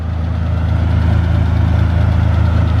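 A JDM car engine idles steadily while warming up, giving a loud, continuous low rumble with an even pulsing throb that holds for the whole stretch, with no voices over it.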